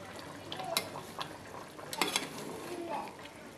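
A spoon stirs beef curry with a thin gravy and freshly added coriander leaves in a pan, making soft scrapes and a few sharp clinks against the metal over a low sizzle.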